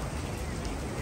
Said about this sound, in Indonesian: Hujan-hujan terus, nggak ada habisnya.